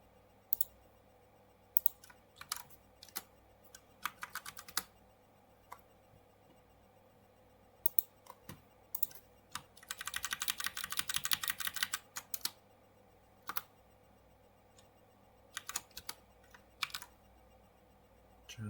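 Fingers tap away at a computer keyboard in a Linux terminal, with quiet scattered keystrokes and short bursts, one longer rapid run of typing in the middle, no voices.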